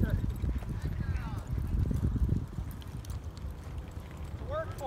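A barrel-racing horse canters in a rhythmic clip-clop of hoofbeats, fairly close and loudest in the first half, with wind noise and a few brief higher vocal sounds over the top.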